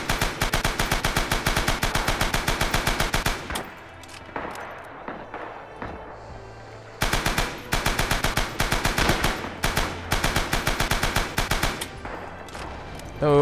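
Machine gun fire from a Japanese gun in the Rising Storm video game: rapid, loud bursts of automatic shots, a long burst, a gap with scattered sounds, then further sustained bursts.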